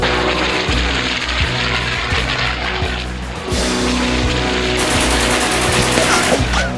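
Rapid machine-gun bursts crackle over the steady roar of propeller aircraft engines in a wartime air battle scene, the firing loud and close with sharp repeated reports and a surge of noise partway through.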